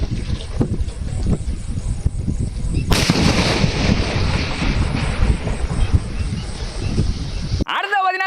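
A fireworks pipe shell, an inch-size tube, goes off outdoors with a sharp launch followed by a loud broadband burst at about three seconds, then sustained crackling and rumble that ends abruptly near the end.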